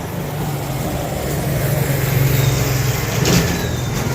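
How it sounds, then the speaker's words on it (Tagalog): A motorized tricycle engine on a Marinduque road rumbles steadily at mid-pitch, holding a continuous drone that swells slightly near the end as it passes close by, with no voices over it. "Ganyan yung style ng tricycle dito sa amin."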